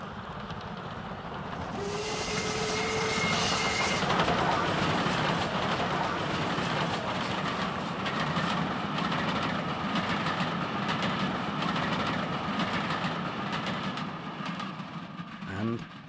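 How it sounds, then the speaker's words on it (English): A steady, roaring rumble of passing British steam trains, including Stanier Black Five locomotives, with hissing steam and a brief whistle near the start, loud and continuous throughout. "as the last few trains passed"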